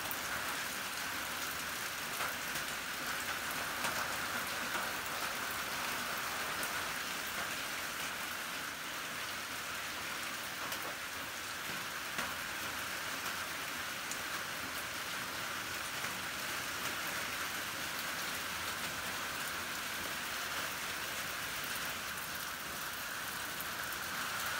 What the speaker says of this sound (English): I'm surviving the rainstorm